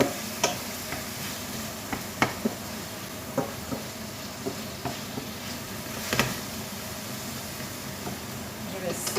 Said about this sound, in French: ma viande dans mon huile épicée et je vais faire revenir